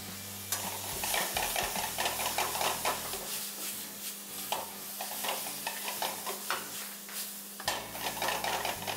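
Chicken wrap filling cooks in a pan with oyster sauce, a steady sizzle under repeated scraping and stirring strokes from a utensil, close and continuous, with a low hum in the background.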